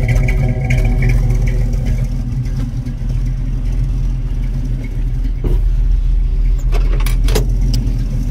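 A Chevrolet Monte Carlo's engine runs at a steady idle, a loud low rumble close by that holds constant, with a few faint clinks and knocks near the end.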